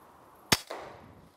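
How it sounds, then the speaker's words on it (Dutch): A single sharp rifle shot fired at a rat rings out at close range, a brief loud crack followed by a short, fading tail of noise, with no talk. "En dan zoom ik in en dan kan ik heel zuiver schieten en dan schiet ik met één schot de rat dood."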